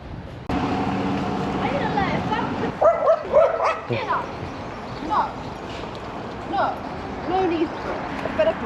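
Truffles the dog barks and yips in short bursts outdoors on a stroll, the sharp yaps close and repeated over a steady background, with a person talking in between.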